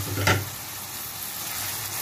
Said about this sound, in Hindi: अच्छे से पहले इसको मिक्स करेंगे ताकि टमाटर मिक्स हो जाए